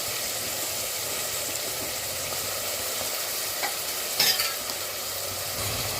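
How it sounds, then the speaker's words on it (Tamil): Onions fry in a pan for mutton biryani, a dense, steady sizzling hiss close by, with a brief louder scrape of stirring partway through. "நம்ம வெங்காயம் வதங்கிட்டுருக்கு"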